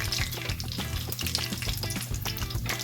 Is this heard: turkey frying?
yes